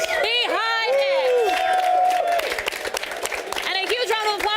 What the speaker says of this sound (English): a huge round of applause for the team